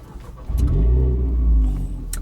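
A Renault Clio RS 220 Trophy hot hatch fitted with an Akrapovic exhaust starts up close by and settles into a loud, deep, steady rumble. The revs rise and fall slightly before easing back.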